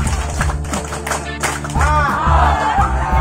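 An audience at an outdoor social event by a fishing pond performs a patterned clapping chant, with sharp claps in quick rhythmic groups over a loud, reverberant background of amplified voices.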